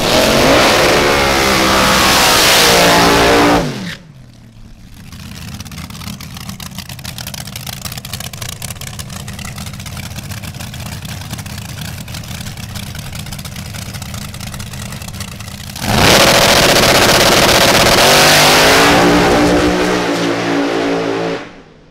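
Drag racing car on Hoosier tires accelerating hard down the track, a loud engine roar at the start, dropping to a steadier mid-level engine drone, then surging loud again near the end with no talk.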